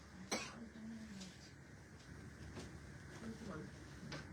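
A single sharp cough breaks through near the start, followed by soft, quiet background sounds.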